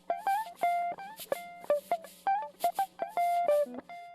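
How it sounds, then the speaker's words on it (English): A short, plucky guitar-like lick from a hip-hop beat, a run of bright staccato notes over a steady low tone, played alone with no talking. "The guitar lick that you hear in here, I'll play that."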